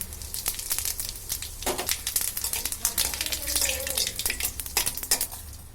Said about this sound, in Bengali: এবার আমরা ফোড়ন দিয়ে দিলাম শুকনো লঙ্কা, তেজপাতা